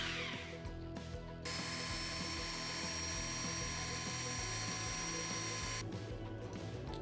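A drill spins steadily as a bronze washer for a butterfly knife is filed to shape, a loud continuous whine with a rhythmic pulsing rattle, briefly dropping at the start and end.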